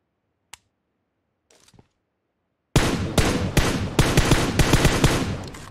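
Automatic gunfire in the video game PUBG Mobile: after a near-silent stretch with a faint click, a loud close burst of rapid shots starts and continues in stuttering volleys to the end, without voices.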